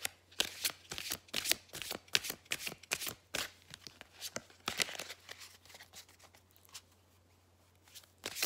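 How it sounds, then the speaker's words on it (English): Tarot cards get a hard, vigorous shuffle, heard as a fast run of crisp riffling bursts and slaps that thin out toward the end, close and with no voices. "Okay, a good hard shuffle then."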